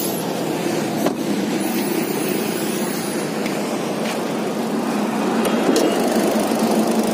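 The 1.2-litre engine of a Hyundai i10 sedan runs at a steady idle, a constant close hum with no talk over it.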